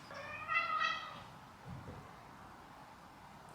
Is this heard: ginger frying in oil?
no